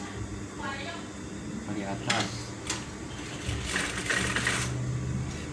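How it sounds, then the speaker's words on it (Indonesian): Sewing machine stitching a men's shirt pocket, a steady rapid mechanical whir with bursts of clatter, running under busy background chatter from several people. "langsung kita jahit dari atas"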